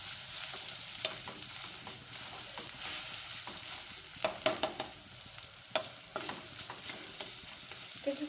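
Taro leaves frying in a pan, a continuous close hiss of sizzling oil with occasional soft stirring scrapes and small crackles throughout.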